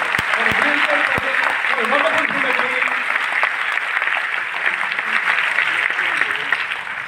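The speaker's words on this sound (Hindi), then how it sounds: "और एक बार जोरदार तालियां दिल से" A Hindi-speaking crowd at a motivational business talk applauds loudly and steadily for about seven seconds, a dense wash of clapping with a voice faintly audible beneath it.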